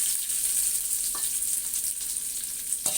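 Two large onions, thinly sliced, fry in a pan for a chapathi noodles dish, giving a steady close sizzle throughout with a couple of faint utensil scrapes.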